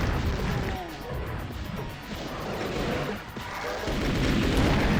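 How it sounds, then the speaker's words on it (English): Doom II explosions tearing through enemies, heavy booming blasts layered with crashing debris and gunfire, loud and chaotic with rumbling low end and a fresh surge of blasts near the end. "I'm going to blow these guys up"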